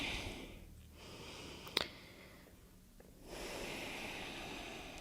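Slow, quiet breaths drawn in and let out during a Pilates exercise with the forehead resting on the floor. Soft airy inhales and exhales rise and fall, with one brief sniff partway through.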